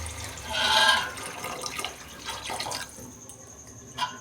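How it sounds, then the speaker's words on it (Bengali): Water poured from a measuring bowl into a cooking pot of rice and turmeric for pulao, a soft splashing gush that swells then trickles off in a quiet kitchen. "সেই বাটি মেপেই আমি জল দিচ্ছি।"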